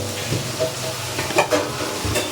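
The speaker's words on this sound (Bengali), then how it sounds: "এই যে কুচিয়ে রাখা পেঁয়াজ দিয়ে দিলাম।" Chopped onion hits a hot pan of oil and fries with a steady, close sizzle, broken by a few soft stirring scrapes against the pan.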